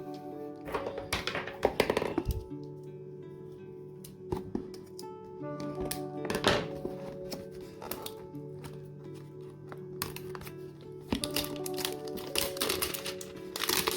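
Plastic wrapper and cardboard of a 2019 Panini Absolute Football trading card hanger box being torn and handled, with irregular crinkles, taps and thunks, fairly close and moderately quiet, no talking.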